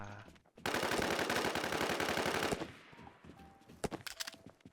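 Bursts of automatic gunfire ring out in a Warzone battle royale match, a dense sustained stream of rapid shots for about two seconds, then scattered sharp single reports and clatter that taper off into quieter game sounds.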